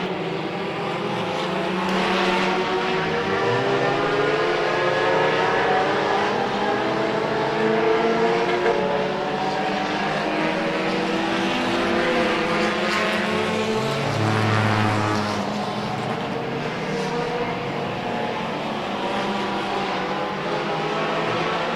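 Race cars circle a racetrack in a Hobbyfest feature race, engines droning and rising in pitch as the cars pass, a continuous roar of several engines at moderate distance.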